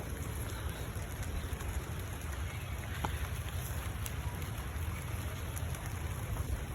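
Steady rain falling over a vegetable garden under a stormy sky, a constant dense hiss with faint scattered drops and some wind noise, no voices present.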